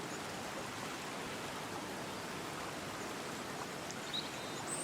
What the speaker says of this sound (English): So let's water these first.